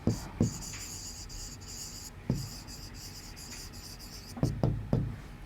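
Digits written on a board during a maths lesson, a scratchy run of pen or chalk strokes broken by sharp taps at the starts of numbers, close and clear.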